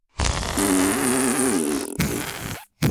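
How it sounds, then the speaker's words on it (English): A loud chorus of overlapping farts from people, horses and cats, a sustained, wobbling, blaring blast lasting over two seconds, then a brief final burst after a short gap. "every person, horse, and cat let out a considerable fart"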